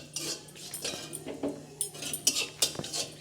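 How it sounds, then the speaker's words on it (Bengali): Dried chilies and bay leaves stirred in a pan for a Bengali prawn and jackfruit dish, heard as a run of light metallic scrapes and clinks of a utensil against the pan, close and moderately quiet, with no talking. "একটু নেড়ে নেব।"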